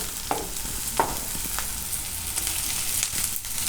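Onions fry in hot oil until translucent, a steady sizzle close by with a few scraping stirs of a spoon, and no talking.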